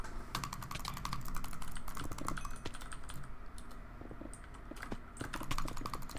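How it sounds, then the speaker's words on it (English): Rapid computer keyboard typing mixed with mouse clicks, steady and close, with dense irregular clatter running the whole time beneath a low background hum. "we can have some nice keyboard and mouse sounds in the background"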